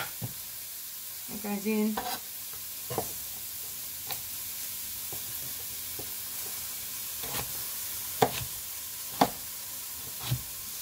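Chicken stir fry stirred in a hot pan, quiet sizzling under scattered scrapes and clacks of a utensil against the pan, with a brief voice near the start.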